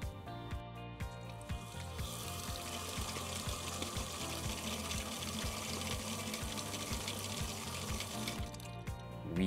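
Water flowing steadily through a 3D-printed flow meter, a continuous close rushing with a faint regular ticking pulse running under it, alone without talk.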